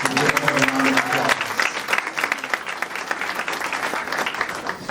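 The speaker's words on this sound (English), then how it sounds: "That's the round of applause" A standing-room-only crowd at a township meeting claps loudly, the applause dense at first and thinning out, with a brief voice at the start.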